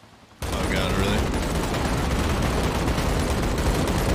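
Sniper rifle fire in the video game Hunt: Showdown, a loud sudden burst that kicks in after a quiet start and is followed by a long, dense, roaring wash of gunfire noise that holds steady to the end.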